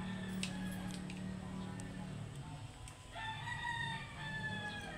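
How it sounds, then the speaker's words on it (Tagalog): A rooster crows repeatedly at a Filipino gamefowl yard where Peruvian and grey-cross roosters are kept, its loud harmonic calls ringing near alongside other roosters and background clucking. "kaninang manok yun, yung tutilaok"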